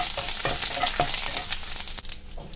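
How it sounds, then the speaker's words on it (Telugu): Two dried red chillies fry in hot oil with curry leaves, a pinch of asafoetida and crushed garlic, a tempering for mint chutney. A loud, steady sizzle runs throughout, broken by sharp crackling pops and the scrape of stirring. "2 ఎండుమిరపకాయలు వేసాను"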